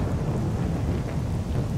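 Heavy rain with a low rumbling of thunder in the survival game Misery 2.0, a loud continuous downpour with deep rolling booms, no voices.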